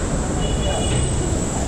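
A metro train ride: a steady, loud rumble of the carriage in motion with a faint high whine running through it, continuous and close, with no talk over it.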